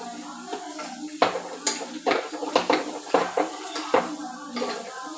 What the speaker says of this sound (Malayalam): കഷ്ണങ്ങളൊക്കെ ഒന്ന് ഉടയ്ക്കണം.